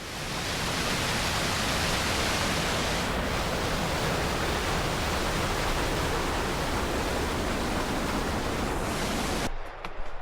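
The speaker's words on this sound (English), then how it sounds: "There's a series of cascading waterfalls and pools as you make your way up to the actual cliffs" Cascading waterfalls and pools along the hike to Raven Cliff Falls in North Georgia give a constant broadband rush of falling water, loud and unbroken until it cuts off abruptly near the end.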